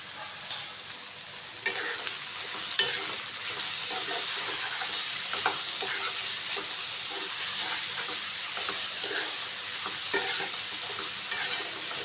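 Tindora curry with salt and turmeric is stirred in an oily pan, a continuous hissing sizzle with scraping stirring strokes and a couple of sharp knocks of the utensil against the pan near the start.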